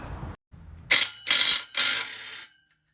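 Ratchet work on a bolt under a Toyota Supra MK4, heard up close as three loud, rough bursts of clicking metal following a softer rattling start, then a stop.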